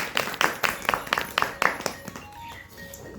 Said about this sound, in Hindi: एक बार इनके लिए जबरदस्त तालियां बजाएं।